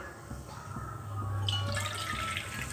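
Soaking water poured from a cup over soaked black kavuni rice in a cooker. It is a quiet, continuous trickle and splash that grows fuller partway through, with no talking.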